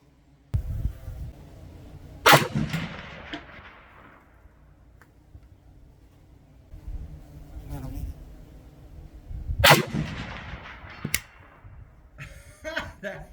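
A Romanian RPK rifle fires at steel targets about 300 yards out, with two sharp, loud shots several seconds apart and a few fainter pops and distant rumbles between them, outdoors on a range.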